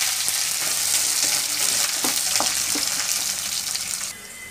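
Onion, garlic and curry leaves frying in a pan after mustard seeds have popped, for a drumstick masala curry, a loud dense sizzle with scattered crackles and stirring scrapes that eases off at the end.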